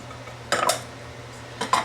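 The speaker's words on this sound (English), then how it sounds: "we're going to whisk that together really well" Flour and baking powder whisked together in a bowl for blueberry lemon muffins, with two short bursts of metal tines clinking and scraping against the bowl separated by a quiet pause, fairly close and with no voice.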